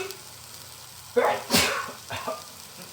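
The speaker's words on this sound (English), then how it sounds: "I'm about to sneeze" A person sneezes once, loud and close, in a home kitchen while Beijing beef is being cooked. A quieter sniff or breath follows, over faint background noise.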